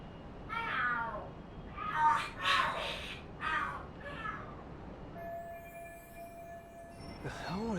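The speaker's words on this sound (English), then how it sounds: "The hell are there cats fighting?" Cats yowl and shriek in a fight in the video game Lost Judgment, a series of loud drawn-out screeching cries with pauses between them, followed by a faint tonal hum.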